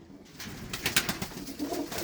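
Plump Punjabi Malwai pigeons kept in England give soft, low cooing calls close by, mixed with faint rustling in the loft.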